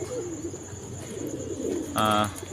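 Pigeons coo softly in low, murmuring tones, followed near the end by a brief, louder, harmonic call.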